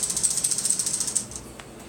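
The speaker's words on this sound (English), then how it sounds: "Remove the screws on the cover." Screws come out of the cover of a K'nex model paper shredder, heard as a rapid, evenly spaced run of close ratcheting clicks lasting about a second before it drops to quiet.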